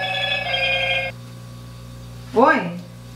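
A telephone rings with a steady electronic tone for about a second, followed by a brief voice, with a low constant hum underneath.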